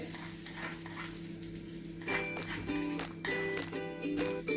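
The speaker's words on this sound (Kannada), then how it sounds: "ಮಾಡಿದಂಥ ಬಿಸಿ ಒಗ್ಗರಣೆ ಇದಕ್ಕೆ ಮೇಲುಗಡೆ ಹಾಕಿರ್ತೀನಿ" Hot oil sizzles loudly as a tempering of sesame, mustard seeds, cumin, byadagi chillies and curry leaves is poured over green tomato chutney, with a few clinks of metal and a steady low hum underneath, no talking.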